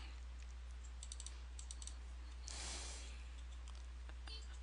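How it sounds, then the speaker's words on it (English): Faint, close computer mouse clicks come in quick pairs and small clusters while a layer is double-clicked in Photoshop, over a steady low hum with a brief soft rustle between them. "All you have to do is just double click on the layer."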